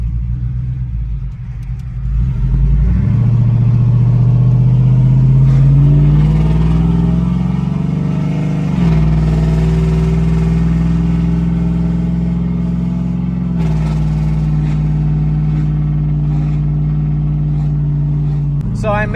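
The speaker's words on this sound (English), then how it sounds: "And my muffler fell off, so it's really loud." A cammed LS V8 in a Chevrolet Tahoe with its muffler fallen off revs loud and rough from close by. The pitch climbs, holds and dips through several long revs over a heavy lumpy idle rumble.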